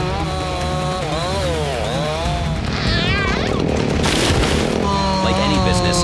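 Chainsaws run steadily while cutting timber at a mountain logging site, their loud whining engine rising and falling in pitch as the saws bite into trees, with heavy crashing noise midway.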